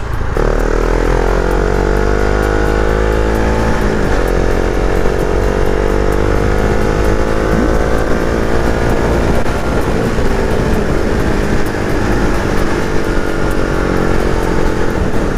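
A Husqvarna Vitpilen 701 single-cylinder motorcycle accelerates hard, its engine roaring loud and close with rising pitch through several gear changes, the revs climbing, dipping at shifts and climbing again, with no speech.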